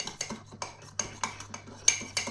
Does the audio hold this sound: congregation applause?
no